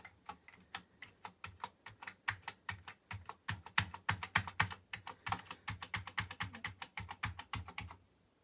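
Rapid, crisp key clicks from a 1984 Commodore Plus/4 computer keyboard as its keys are tested, a quick irregular run of close tapping heard alone in a quiet room.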